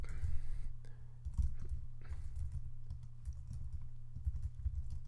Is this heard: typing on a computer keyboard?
yes